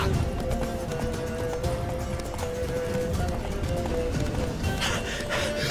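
Hooves of the horse Roach clip-clop steadily at a gallop in The Witcher 3 video game, loud and continuous throughout, with a whinny and game music and voices layered over the running.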